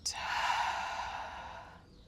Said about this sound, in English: let's take another deep breath in. Deep breath out.